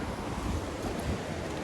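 Water spilling over a blocked drain wall outdoors, a steady close broadband rush like surf with wind buffeting the microphone, continuous and fairly loud throughout.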